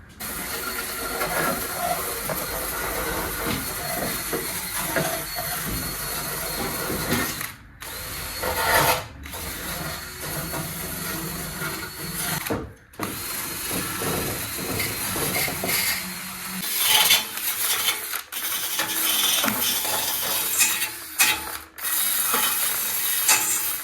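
A wire wheel grinds loudly and continuously against bare metal on the firewall of a 1979 Volare wagon, with a few brief pauses as the tool lifts off and bites again.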